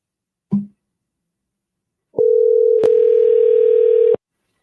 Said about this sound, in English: let's see if we get him on the phone